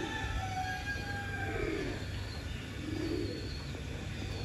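Pigeons returning to a rooftop loft in Sialkot give soft, low cooing calls twice, faint against a steady background hum, with no talk.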